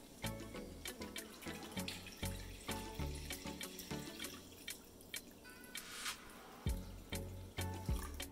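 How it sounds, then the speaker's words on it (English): Water pours and splashes into a soup pot holding cleaned shrimp shells, with irregular dripping and clinking, steady and close, no voices. "And then add the water."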